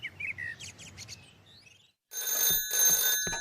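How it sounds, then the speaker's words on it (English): A telephone rings in Pat's house in a cartoon village, a loud, bright electronic trill in two close bursts that follows soft birdsong chirping in the background. "the phone rang in Pat's house"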